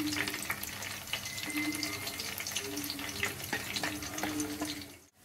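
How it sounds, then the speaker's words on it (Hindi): Eggplant pieces fry in an oil-filled pan with curry leaves for a Hyderabadi baghare baingan curry, a steady close crackle with occasional clinks and stirring scrapes throughout, no voices. "अब इसमें बैगन फ्राई करेंगे, 3-4 मिनट के लिए बैगन ये सारे फ्राई कर लेंगे।"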